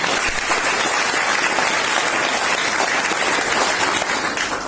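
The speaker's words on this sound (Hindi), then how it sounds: "एक बार इनके लिए जोरदार ताली बजाएंगे" Audience at a Modicare business opportunity meeting in Hisar giving loud, sustained applause, a thick continuous roar of many clapping hands with no speech on top.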